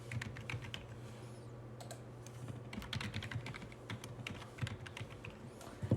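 A computer keyboard is tapped in a quick, uneven run of keystrokes over a low steady hum, close and fairly quiet, with no talking.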